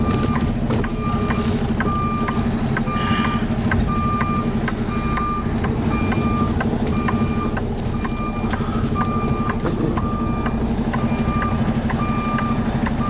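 A truck's reversing alarm beeps in a steady, evenly spaced rhythm while it pulls up and backs in, over a loud constant diesel engine rumble, with no talking.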